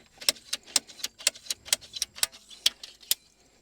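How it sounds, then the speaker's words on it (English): A damaged section of buried water line pipe is cut out: about a dozen sharp, evenly spaced clicks close by, steady and fairly quiet, with no talking. "I'm gonna go ahead and cut out this bad section of pipe here"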